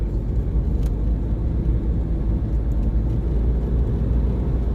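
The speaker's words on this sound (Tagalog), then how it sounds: "So ito, mga sasakyan na to, pauwi na to ng Bangkok." Cars on a countryside road near Nam Tok carry weekend campers home toward Bangkok, a steady loud rumble and whir of passing traffic with no voices.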